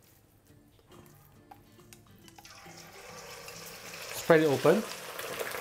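Beef pieces dropped into hot oil in a wok for a Chinese stir fry with broccoli set off a sizzle that builds gradually and peaks in a loud burst near the end, with a brief spoken remark.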